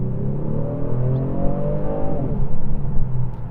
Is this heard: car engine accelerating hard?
yes